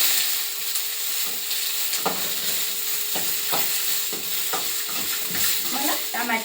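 Onions frying in a pan with a steady loud sizzle, broken by repeated scraping stir strokes of a spatula.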